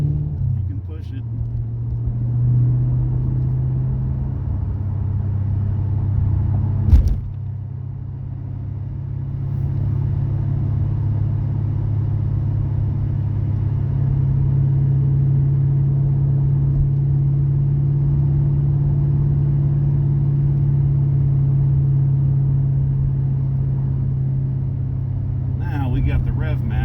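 6th gen LT1 Camaro driving along with steady engine drone, swelling as revs rise and dropping briefly around a rev-matched downshift, while people talk over the cabin noise.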